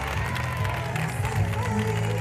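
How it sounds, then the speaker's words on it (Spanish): Crowd applauds and cheers at the election of the Sultan and Sultana of the 2019 Córdoba Carnival, a steady clapping wash from a large audience heard close and continuous alongside a presenter's voice. "¡Fuerte aplauso!"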